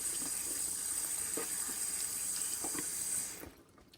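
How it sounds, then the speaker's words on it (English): Cold tap water pours steadily over cooked pasta noodles in a sink, a close, bright hiss with light splashing and occasional stirring clinks, then the flow cuts off near the end. "let the cold water run over the noodles for a while stirring them"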